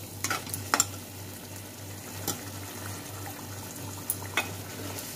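Water is being stirred into a dhaba-style egg masala gravy in a pan, with a few scraping and sloshing stirs over a low, steady simmering hiss.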